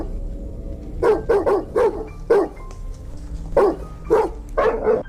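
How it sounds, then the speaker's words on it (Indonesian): A dog in a forest barks repeatedly at lost hikers, a string of loud close barks in quick bursts, some doubled, with short pauses between. "Namun seekor anjing terus saja menggonggong kepada mereka."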